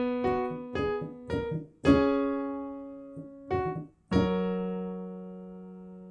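A piano plays the second part of a song's verse, a few slow separate notes and chords struck clearly, the last chord left ringing and fading out, with no voice over it.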